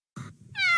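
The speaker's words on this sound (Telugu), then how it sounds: "నువ్వు మియావ్ అని అరిచి కాపాడావు" A cartoon cat gives one short, bright meow, close and clear, following a brief low thump.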